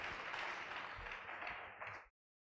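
Audience applause in a college lecture hall, a dense burst of clapping, fairly faint and even, lasting about two seconds before stopping abruptly.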